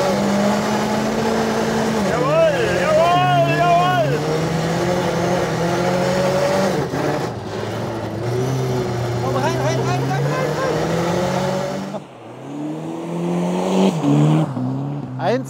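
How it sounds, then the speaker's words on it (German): A car slides fast around a corner on a frozen lake in Sweden, engine revving and tires hissing over ice, up close, while people talk and exclaim over the noise. "Das ist Wahnsinn, wie schnell man um diese Ecke fahren kann."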